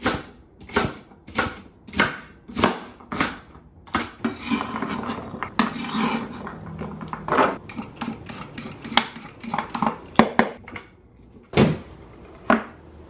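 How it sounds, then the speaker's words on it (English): Celery stalks being cut in half on a cutting board with a knife, a series of sharp, evenly spaced chops, then scraping and clattering of utensils, followed by a few more firm chops close by. "So first we're going to chop the celery in half"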